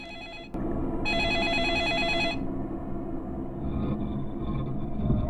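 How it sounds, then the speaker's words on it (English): A telephone rings in the horror video game Premonition, one bright electronic ring burst lasting over a second over a low rumbling ambient background, followed by quieter tones. "Another phone call. Well, I guess we'll have to pick that up."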